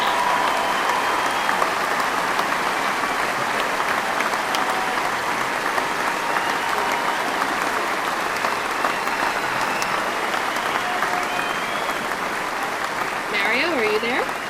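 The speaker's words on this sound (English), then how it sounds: "everyone who presented today really deserves a round of applause" Sustained audience applause after a round of startup pitch presentations at a live tech event, steady and dense throughout with a few voices and brief whoops rising near the end.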